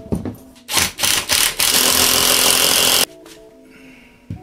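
A power tool drives U-bolts into a wall, running in several short loud bursts and then one sustained whir of about a second and a half before stopping, with quiet handling noises afterward.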